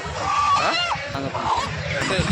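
Chickens squawk and cluck in short bursts amid the bustle of a busy live goat market, with voices talking nearby.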